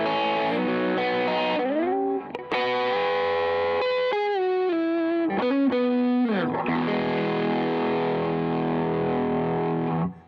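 Electric guitar through an MXR CSP039 Duke of Tone overdrive pedal plays a continuous melodic riff with sustained, gritty notes and a few brief pauses, loud and close with no talking.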